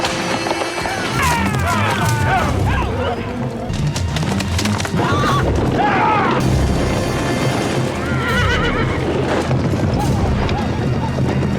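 A horse whinnies loudly and repeatedly amid a chaotic Wild West shootout, with hoofbeats, booming gunfire and crashes mixed in under shouted voices.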